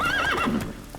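Roach the horse in The Witcher 3 lets out a short, close neigh that rises and wavers, then trails off into a brief snort.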